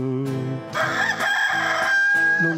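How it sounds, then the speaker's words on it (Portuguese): A rooster crows a loud, close cock-a-doodle-doo, its long call rising and holding, followed by short clucks. "Despertador pelo cantar do galo."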